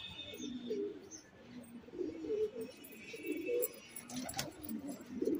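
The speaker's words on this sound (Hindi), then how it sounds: "ये रहे हमारे गोला कबूतर भाई," Pigeons coo softly and repeatedly in low, throaty bursts, with faint chirps and a brief flutter of noise in the background.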